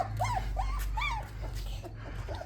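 A puppy whimpers in a run of short, high, rising-and-falling whines, three close together and then fainter ones, heard near over low background noise.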